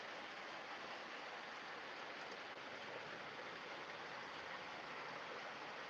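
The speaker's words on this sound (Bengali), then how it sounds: "এত জোরে বৃষ্টি হচ্ছে" Heavy rain pouring down in a steady, dense wash of noise that holds constant and unbroken throughout, with no voices.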